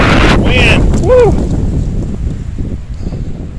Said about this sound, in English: wind. Woo!